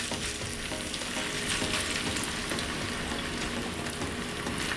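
Garlic frying in oil over medium heat, a dense, even crackling sizzle close by with faint stirring, steady from start to finish and with no talk.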